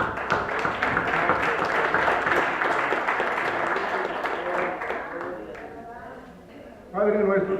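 Applause from a church congregation during a Spanish-language service, a dense wash of clapping that fades over several seconds before a voice begins leading prayer.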